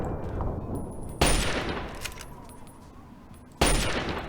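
Two sharp, loud rifle shots from the backwater rifle in Fallout 3, spaced a couple of seconds apart, each with a ringing tail that fades away into a quiet room-tone background.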